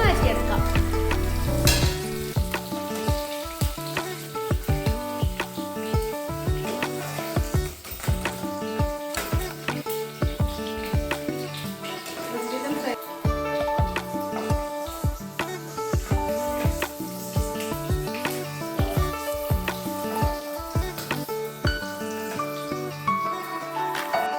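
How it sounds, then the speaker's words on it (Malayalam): Mustard seeds dropped into hot oil that was used to fry kanthari chillies, crackling and sizzling loudly and continuously, with dense popping and occasional stirring scrapes, close up. "നമ്മൾ കാന്താരി കോരി വെച്ച ആ എണ്ണയിൽ തന്നെ നമുക്ക് കടുക് ഇട്ട് കൊടുക്കാം"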